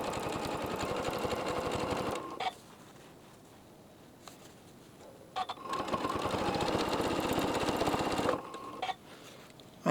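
A sewing machine stitches a quilt in two fast, rattling bursts of a few seconds each, close and steady, separated by a quiet pause with a couple of light clicks.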